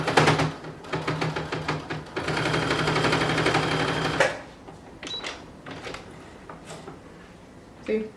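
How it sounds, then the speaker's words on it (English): A sewing machine basting a pants pocket along its top edge, a loud rapid whirring stitch run of about four seconds, then quieter handling of fabric. "we're just going to baste it together just along the top edge here"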